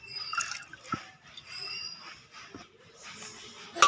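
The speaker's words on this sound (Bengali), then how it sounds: "জলের মধ্যে ডালগুলো দিয়ে দিচ্ছি।" Pre-soaked lentils are tipped into water in a pressure cooker, producing soft splashes, drips and trickling close by, ending in a louder splash.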